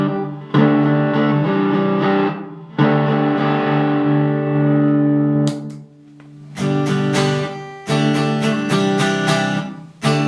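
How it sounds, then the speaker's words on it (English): An electric guitar played through a straight distortion pedal on a Pink Fender, sustained crunchy chords ringing out in bursts separated by brief silences, loud and alone without talk. "It's just straight distortion."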